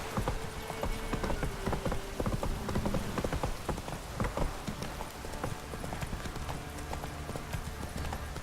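Heavy rain pours steadily in the Witcher 3 game world, with horse hooves clip-clopping through it at close range; a low, constant wash of rainfall fills the background throughout.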